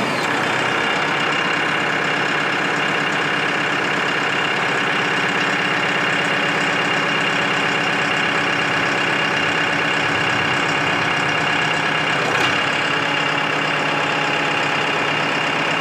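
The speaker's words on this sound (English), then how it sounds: "Our tractor sounds like a real tractor." A Mahindra 3550 PST tractor's diesel engine idles steadily nearby, a loud, even rumble that runs unbroken throughout.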